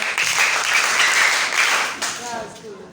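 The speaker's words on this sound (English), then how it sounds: "Let's give them a round of applause." Applause at a history festival quiz competition in Ghana, a short loud round of clapping from a crowd that tapers off after about two seconds, with voices rising underneath toward the end.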